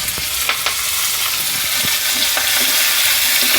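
Curry leaves dropped into a hot oil tempering for a cucumber dal, a close, continuous sizzle with scattered crackles and faint stirring sounds.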